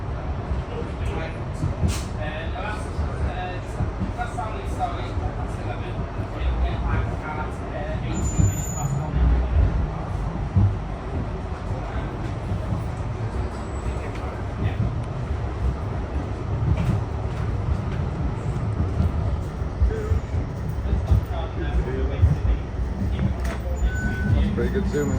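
Onboard a full Blackpool tram on the UK's oldest running tramway, a continuous low rumble and rattle of the car runs throughout, with a recorded stop announcement and passengers talking over it.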